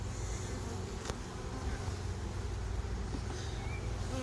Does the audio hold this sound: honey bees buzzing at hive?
yes